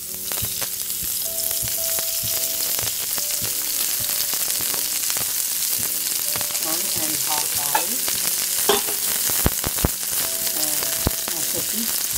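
Half an onion frying in a quarter spoon of oil in a kadai for mango pappu, giving a steady, close, continuous sizzle with light stirring scrapes and clicks throughout.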